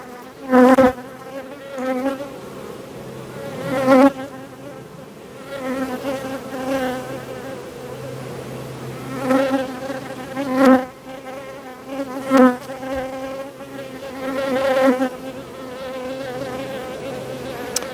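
Honey bees buzzing inside a hive in winter, from a weak colony that is not expected to survive the season. Steady close droning, with louder swells and individual bees passing near.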